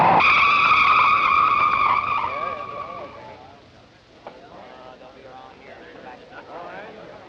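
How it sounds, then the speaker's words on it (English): Race car tires squeal loudly on the track during qualifying at the 1956 Indy 500, with a long skidding screech that fades into engine noise and crowd sound on an old film soundtrack. "He takes the flag, and the wheels begin to spin."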